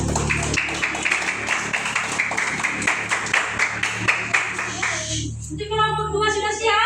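Classroom students clapping hands together in a rapid, rhythmic burst of steady claps close by, with musical tones entering near the end.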